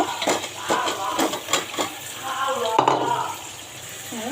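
Fritters go into a pan of sizzling spiced fish curry, with several close clattering and splashing bursts followed by a steady wet sizzle.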